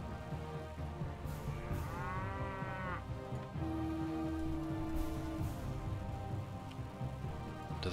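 Cattle in the Viking Conquest video game low repeatedly, several drawn-out moos rising over a busy background of game sounds with no talking.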